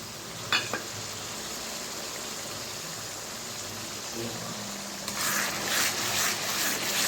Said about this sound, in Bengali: মশলাটাকে বেশ কিছুদিন কষিয়ে নেব